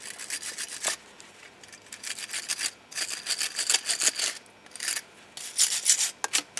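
Cleaning the brake mating surface on a Peugeot 307 rear brake assembly during a pad reinstall: close, dry rubbing strokes come in repeated rasping bursts with short pauses between them, and no one speaks.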